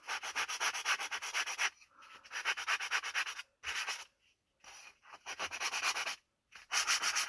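Hand sanding along the freshly cut edges of a wooden art caddy, rhythmic back-and-forth rubbing strokes in close, regular bursts separated by short pauses.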